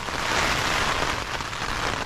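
Steady rain patters in cold, wet mountain weather in the Carneddau range, a dense even hiss filling the short stretch with no voices.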